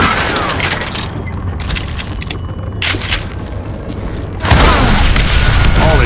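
Gunpowder and dynamite blow up in Call of Juarez: Gunslinger, a sustained loud roaring blast with debris rumbling, and a second heavy burst near the end.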